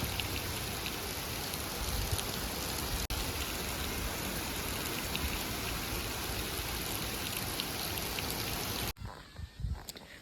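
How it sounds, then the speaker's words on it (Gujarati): Steady rain pours down in a dense, even hiss, then cuts off abruptly near the end to quieter dripping and rustling. "જો આપણે વરસાદ ચાલુ થઈ ગયો હે"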